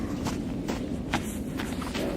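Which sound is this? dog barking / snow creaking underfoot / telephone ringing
snow creaking underfoot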